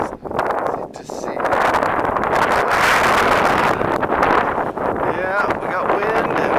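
Heavy wind buffeting an outdoor microphone while walking past houses under construction, a loud continuous rumbling roar with gusty swells throughout, and faint speech partly buried beneath it.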